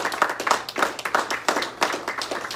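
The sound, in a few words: congregation applause in church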